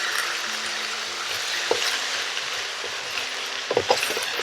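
Cabbage stir-frying in a large pot over high heat gives a steady, loud sizzle, with a few clinks and scrapes of a utensil near the end.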